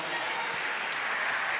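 A church congregation claps at the inauguration of a new church building, a soft, continuous patter of many hands that sounds slightly distant and stays steady for the whole moment.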